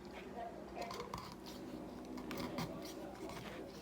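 A knife cuts along the breastbone of a raw chicken, with quiet close scraping, soft wet squishes and small clinks against a dish under low talking.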